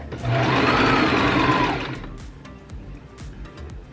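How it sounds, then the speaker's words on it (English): A sewing machine stitches a fabric scrunchie, running in a loud, steady close-up whir for about two seconds, then stopping, leaving quiet handling clicks and rustles. "So I'm gonna sew a little bit farther down"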